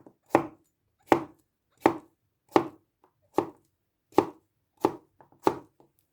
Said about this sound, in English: There you go, cutting some cucumber.